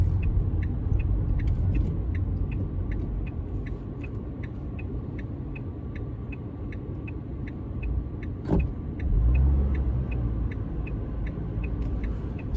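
An 18-year-old car's engine held at high revs, a steady droning rumble with a regular ticking pattern above it, a brief bump partway through and a deeper surge of engine noise afterward, no speech.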